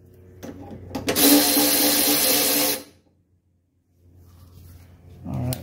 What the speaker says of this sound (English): we put a wrench on the nut there that screws into the backing plate. And we go ahead and unscrew that